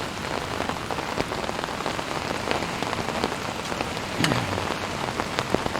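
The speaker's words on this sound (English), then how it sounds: "Hopefully this rain dies down a little bit" Rain patters steadily on a camping tarp, a dense even hiss of drops with occasional heavier taps, close and constant throughout with no voices.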